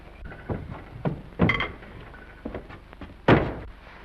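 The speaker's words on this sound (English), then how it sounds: "Will you close this door, please?" A door in an old 1937 film scene is handled with a few dull knocks and rattles, ending in a firm thud as it shuts, close by and fairly loud, with no talking.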